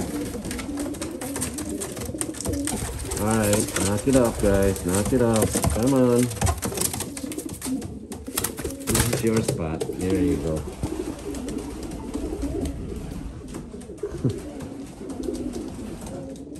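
Pigeons being paired for breeding coo repeatedly in rolling, throaty bursts, close and fairly loud, while someone talks to them over the cooing and a brief flutter of wings breaks in.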